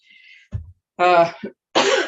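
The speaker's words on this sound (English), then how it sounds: "she says as she coughs." Several short coughs close by, separated by brief silences, with a faint breathy tone at the start.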